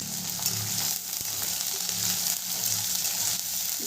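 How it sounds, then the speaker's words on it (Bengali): A large onion, finely chopped, fries in hot oil for Bengali aloo posto, giving a steady close sizzle that hisses on without pause for the whole stretch. "হালকা একটু ভাজা ভাজা করব।"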